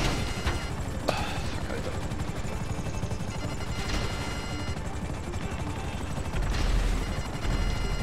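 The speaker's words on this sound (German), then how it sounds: "Mann, die schießen die ganze Zeit auf mich." Enemy gunfire crackles almost nonstop in a GTA 5 Online heist, with rapid bursts and sharper single shots over a steady helicopter rotor drone, all heard fairly loudly throughout.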